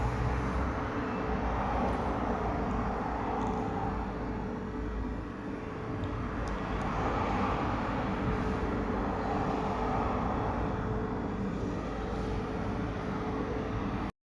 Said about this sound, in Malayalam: കണ്ണൂർ എയർപോർട്ടിൽ ഖത്തർ ഫ്ലൈറ്റ് ലാൻഡ് ചെയ്തിട്ടുണ്ട്.